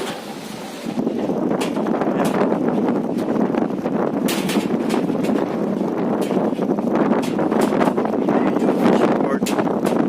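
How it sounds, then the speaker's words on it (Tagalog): Strong monsoon wind at a seaside fish port roars steadily into the microphone, a loud continuous buffeting rumble with sharp gusty bursts throughout. "Kita ko sa inyo kung gaano na naman kalakas ang hangin dito sa amin."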